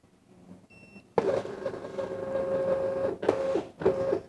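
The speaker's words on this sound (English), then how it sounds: "You will see the printer is calibrating the paper." MUNBYN RealWriter 941 thermal label printer calibrating its label paper: a short electronic beep, then a loud motor whir feeding labels with a steady tonal hum, briefly pausing and resuming in bursts, close up with no talking.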